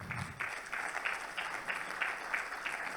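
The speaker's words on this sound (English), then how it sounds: "Can we get a round of applause for Dan North?" Audience applause at the close of a talk by Dan North, steady and moderately distant, with rhythmic pulses of clapping.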